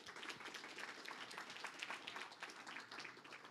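Quiet, thin clapping from a conference audience at DConf, a soft scattered patter lasting a few seconds at low volume.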